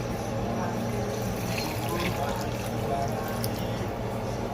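Water poured into a pot of turmeric, ginger and pineapple tea, a steady close splashing and trickling stream that carries on throughout.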